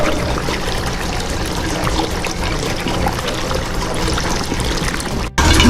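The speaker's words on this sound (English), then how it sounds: "Rinsing the rest of it with a water bottle here." Water poured from a water bottle to rinse equipment at a facility, a steady splashing trickle and gush that holds for about five seconds, cuts off briefly, then resumes.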